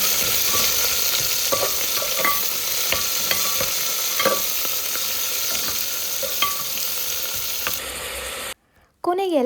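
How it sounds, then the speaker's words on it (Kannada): Chilli, garlic, ginger and onions sauté in a pan with a steady, bright sizzle, broken by scattered scrapes and taps of stirring, before a brief clatter and near silence at the end. "ಎಲ್ಲ ಹಾಕ್ಕೊಂಡು ಚೆನ್ನಾಗಿ ಸಾಟೆ ಮಾಡ್ಕೊಳ್ಳಿ"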